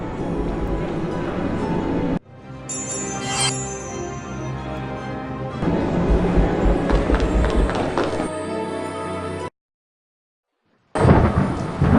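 A thunderstorm rumbles with heavy rain in the Harry Potter and the Prisoner of Azkaban PC game, loud sustained roaring broken by abrupt cuts and a short silence, with brief clattering and game sounds mixed in.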